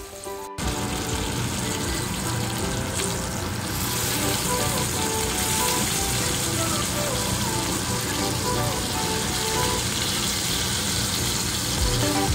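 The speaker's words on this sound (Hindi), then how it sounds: "देखो फ्रेंड्स, हमें ऐसे शैलो फ्राई करना है थोड़े ऑयल में" Surmai fish shallow frying in a little oil, a steady loud hiss and spatter of sizzling that runs unbroken and close for the whole stretch after a brief quieter start.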